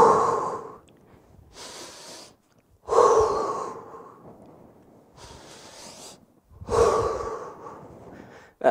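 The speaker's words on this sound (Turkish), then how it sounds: "önce bir nefes alıp verelim" Deep breaths in and out during a post-workout cool-down, three slow breathy cycles with quiet pauses between them, close and fairly loud, with no talking.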